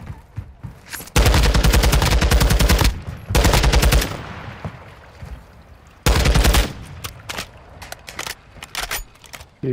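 Loud automatic gunfire from a shooter video game, with long rapid bursts separated by quieter gaps and scattered single shots toward the end.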